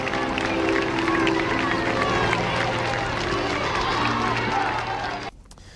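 Large crowd cheering and roaring steadily in the open as the Pope arrives in his Popemobile amid tight security, a dense sustained din that cuts off abruptly near the end.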